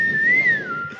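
A single clear whistled note rises slightly then glides down, a short human whistle heard up close over faint background noise.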